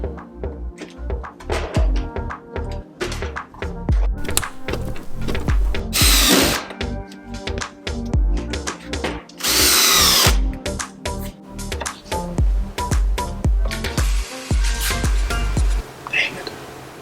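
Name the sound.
power drill driving stainless steel screws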